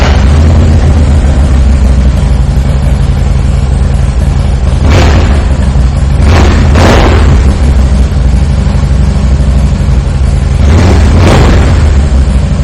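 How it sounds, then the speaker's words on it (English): A 2016 Harley-Davidson Softail Slim S with a MagnaFlow exhaust idling loud and close, a deep steady rumble broken by several sharp throttle blips that swell and fall back. "I am going to take the opportunity right now to fire this bike up so you can hear that Magna Flo exhaust."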